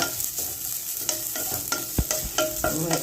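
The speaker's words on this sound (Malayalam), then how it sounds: "ഇതിലേക്ക് നമ്മൾ ഇതാ തേങ്ങ ഒന്ന് വറക്കണം" Grated coconut roasting in a pan, a close, steady dry sizzle with repeated scraping strokes of a spoon stirring it, no voices.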